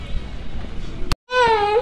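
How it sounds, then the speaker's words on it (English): A baby cries in a short, wavering wail that rises and falls, loud and close, following a stretch of muffled background noise and a brief sharp click. "See, you can hear the baby crying."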